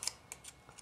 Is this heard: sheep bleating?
no